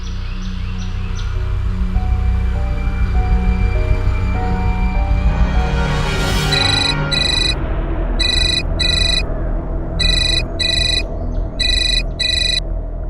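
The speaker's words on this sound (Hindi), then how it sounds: "कौन जयदीप सिंह का फोन है?" A telephone rings in a tense domestic crime drama scene, a steady electronic ringtone with repeated bursts of trilling tones, loud and continuous with no talk over it.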